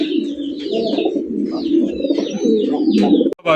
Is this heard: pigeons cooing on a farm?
yes